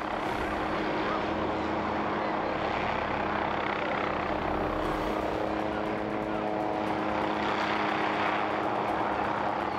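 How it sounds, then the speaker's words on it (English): A rescue helicopter hovers into position, its rotor and engine roaring loud and close with a steady whine and pulsing chop throughout, under a faint voice. "as the helicopter moves into position"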